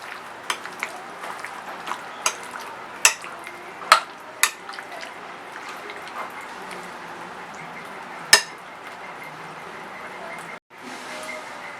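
Chicken being mixed with ground black pepper and salt for a marinade, giving a run of sharp, scattered clinks and taps of a utensil against a bowl over a steady low room background.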